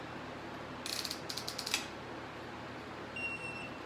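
A torque wrench ratchets on a bolt of a race car in a shop, giving a short burst of rapid metallic clicks close by, then a few faint electronic beeps in a quiet room.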